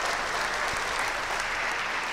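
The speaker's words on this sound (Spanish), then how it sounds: "Fuerte, fuerte el aplauso." Steady, dense audience applause at an evening tango show fills the whole stretch, a close, even wash of clapping with no voices above it.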